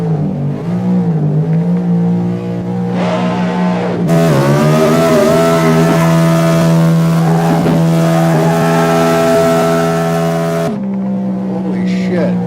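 Car engine in a driving video game droning and revving through gears, a steady loud tonal whine that climbs and shifts pitch, with someone talking intermittently over it.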